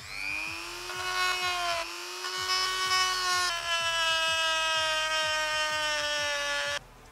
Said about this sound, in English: just use the Dremel and just clean up some of those edges just to make it look a bit neater